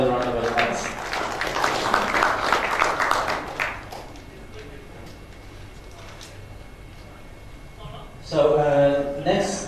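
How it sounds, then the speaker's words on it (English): Audience applause at an investment summit in Nepal, a burst of clapping in the first few seconds that fades into low room noise, then a brief loud moment near the end with a voice speaking. "so let's give another round of applause."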